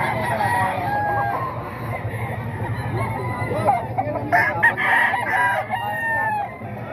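A tall ten-month-old gamefowl rooster crows loudly and nearby, over a steady backdrop of other birds clucking and calling.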